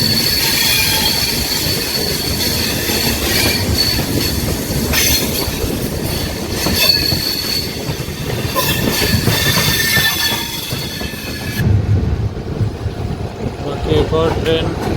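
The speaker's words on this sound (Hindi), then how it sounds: "बाकी एक और ट्रेन आ रही है।" A train passing on an Indian railway line, a loud continuous rumble of wagons and wheels with squealing and rhythmic clacks, close by, with someone talking over it.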